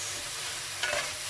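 Spring onions fry quietly in a pan for a Filipino stir-fried mussel dish. A soft, steady sizzle is broken by one brief stirring scrape.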